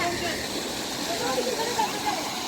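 A small stream of water flows steadily on the way to a waterfall, a continuous close rushing and gurgling wash with faint voices in the background.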